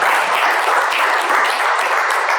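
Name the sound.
audience applause for a speaker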